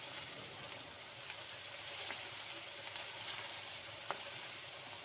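Marinated liver (kaleji) goes into a pan of browned onions and sizzles steadily, a soft continuous frying hiss with small crackles and one sharp pop near the end, no talking.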